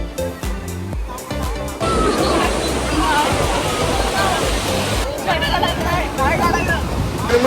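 Sea waves roll in at a Goa beach, a broad, steady surf roar that swells in after a brief quieter start, with people talking and chattering nearby over it.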